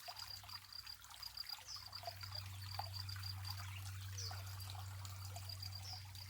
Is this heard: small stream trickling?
yes